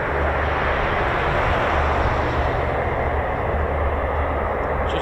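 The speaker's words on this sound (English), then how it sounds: "that lovely sound of the MC-130J Commando 2, which is a souped-up Hercules, basically" An MC-130J Commando II, a modified Hercules military transport flown by a special operations squadron, fills the air with a steady, loud, continuous engine roar at an air force base.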